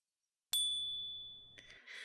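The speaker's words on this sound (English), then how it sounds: "let's go ahead and hit that fourth wall bell" A single clear bell ding rings out sharply and sustains as a long, slowly fading tone, followed by a faint rustle at the end.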